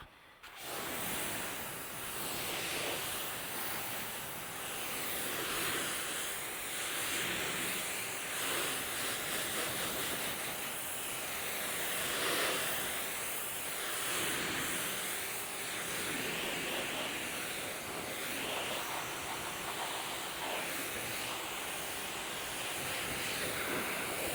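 Steady spraying water rinses a car after a contact wash, a continuous broad hiss lasting throughout, even and moderately distant with no talk.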